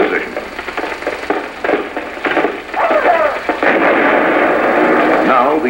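Vintage US Army training film battle sound of a rifle squad laying down suppressive fire, a loud rolling mix of rifle shots and booming bursts with a narrator talking over it throughout.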